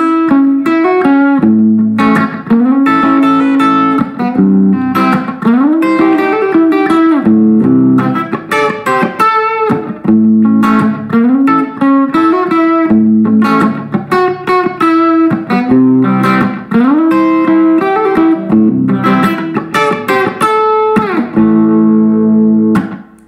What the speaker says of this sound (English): I'm going to be rocking out the D'angelico Deluxe Atlantic through my Fender practice amp